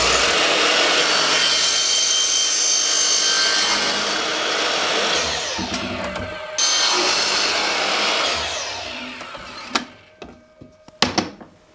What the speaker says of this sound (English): I'm going to use my compound miter saw here